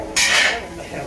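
A large pot of khichdi being stirred for pilgrims at Alandi, with a sudden loud metallic scrape of a ladle against the pot that swells and fades over about a second.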